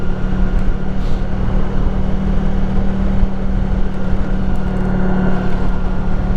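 A 24-year-old Honda Pan European ST1100 motorcycle engine runs with a steady, loud, low droning hum, heard close and continuous with wind-like rumble throughout.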